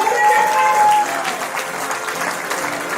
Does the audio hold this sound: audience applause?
yes